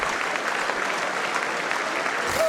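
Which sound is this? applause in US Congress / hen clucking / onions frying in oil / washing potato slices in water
applause in US Congress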